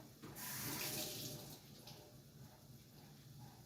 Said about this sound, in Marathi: हा बटाटा जो आहे ना, हा मी आता धुवून तुम्हाला दाखवते कसा कापायचा